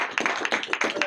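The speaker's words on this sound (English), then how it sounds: "Give him a round of applause." A handful of people in a meeting room clap briefly, several distinct sharp claps in a loose uneven rhythm, close and fairly quiet.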